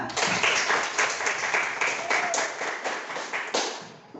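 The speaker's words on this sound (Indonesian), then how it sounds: "Baik semuanya, kasih aplaus untuk kita semuanya." Students in a classroom applaud together in a loud, dense burst of clapping that carries steadily for several seconds before tapering slightly at the end.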